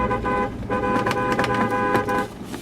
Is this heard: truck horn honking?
yes